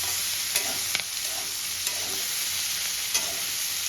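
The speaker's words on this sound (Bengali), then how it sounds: "সবজিগুলোকে হালকা লাল করে আমি ভেজে তুলে নেব।" Vegetables fry in a pan for a vegetable korma, a steady bright sizzle with occasional stirring scrapes and clinks, close and continuous with no talking.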